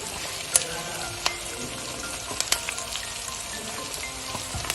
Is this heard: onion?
yes